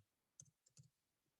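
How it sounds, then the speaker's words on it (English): A few soft keyboard keystrokes click sparsely on a computer keyboard, quiet and close, followed by a sharper louder tap at the end. "I'm typing this right now"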